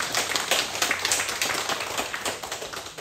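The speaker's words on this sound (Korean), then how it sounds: "이렇게 힘내시라고 한번 위로의 박수 한번 보내주시면 감사하겠습니다" Members of a Korean church congregation at Sunday worship clap in consolation for a grieving deacon, a brisk, somewhat rhythmic patter of many hands, close and moderately loud, tapering a little toward the end.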